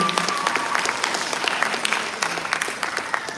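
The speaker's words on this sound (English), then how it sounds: "Please give her one more round of applause." Audience at a live musical event applauding a performer, a lively spread of many hands clapping with distinct sharp claps up front, sustained throughout with no voices.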